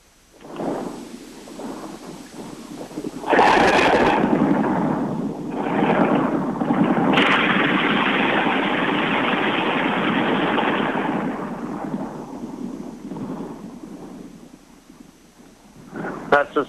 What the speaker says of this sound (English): That's the sounds of heavy anti-aircraft gunfire erupting over the city of Tripoli here.